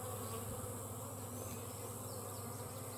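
Honey bees hum in a beehive, a faint, steady, close buzz with no voices.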